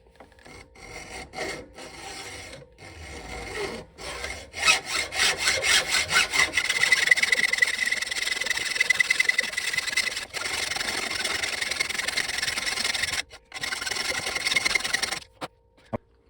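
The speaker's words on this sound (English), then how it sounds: "As you can see, I'm almost all the way cut through the nut totally." A hacksaw cuts through a seized nut on a hot tub heater element, making a steady rasping back-and-forth scrape that starts in short strokes, then runs continuously and close by, with a couple of brief pauses.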